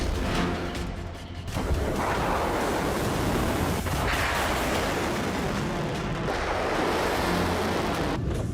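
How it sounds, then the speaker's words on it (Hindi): Waves on the Gulf of Oman near the Strait of Hormuz, driven by wind, make a dense, loud roar that swells and recedes in broad surges, with gusty wind noise hitting the microphone throughout. "ओमान सागर की लहरें, हॉर्मुज की हवा"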